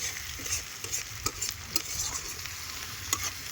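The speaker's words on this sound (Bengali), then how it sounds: "আর ফার্স্ট টাইম আজকে মাংস রান্না করছি উনুনে" Meat stirred and frying in a pan over a homemade clay stove on a rooftop, giving a steady low sizzle with soft scraping stir strokes throughout.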